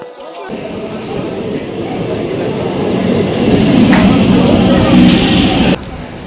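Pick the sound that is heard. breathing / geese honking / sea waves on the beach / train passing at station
train passing at station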